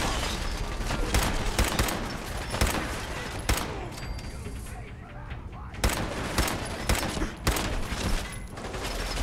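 Shotgun fire in Fallout 4, a dense run of loud, close gunshots repeating through the whole stretch, with brief pauses between volleys and a faint voice underneath.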